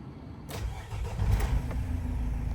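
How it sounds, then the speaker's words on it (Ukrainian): A 2011 Renault Trafic passenger van with a 2.0-litre 115 hp engine cranks briefly and catches, then settles into a steady close diesel-like idle rumble that continues to the end. "Так, Заведемо, автомобіль стоїть на ручнику"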